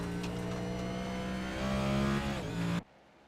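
Race car engine roaring at steady high revs in the Cup Series championship race at Phoenix Raceway in a racing video game, loud and sustained with a pitch rise near the end before cutting out abruptly.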